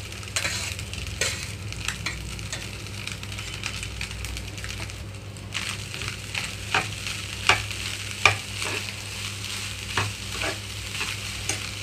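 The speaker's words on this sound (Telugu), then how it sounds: "కొద్దిగా ఆరిపెట్టుకున్న రైస్ని ఇందులోకి కలిపేస్తున్నాను" Cooled rice being mixed into fried onion and egg in a pan, giving a low steady sizzle with repeated scraping and tapping spatula strokes, some sharper knocks, and no talking.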